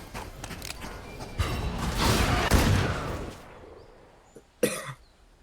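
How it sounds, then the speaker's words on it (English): Video game gunfire during a competitive tactical shooter match: a burst of sharp cracks followed by a lone distinct shot, loud and close with brief decays. "That's 2 gunshots"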